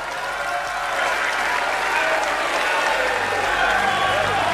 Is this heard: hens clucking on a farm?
no